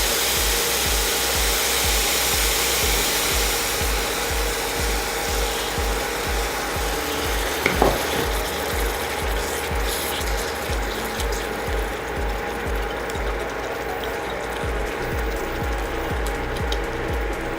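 Soaked khoa being stirred into milk in a pan for bottle gourd kheer, a steady rhythmic scraping and rubbing that runs evenly throughout, close and moderately loud, with one brief sharper clink near the middle.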